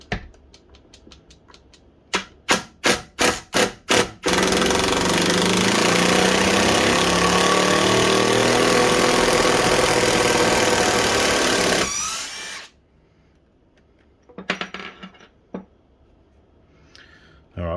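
A Ryobi One+ brushless HP impact driver fires off a quick run of sharp hammering bursts, then drives a screw with a loud, steady, continuous rattling whir for about eight seconds before stopping, followed by a few short trailing clicks and taps.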